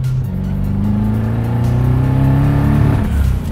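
An 800-horsepower BMW E30 accelerates hard, its engine note climbing loud and close as it revs up through the run, with no speech.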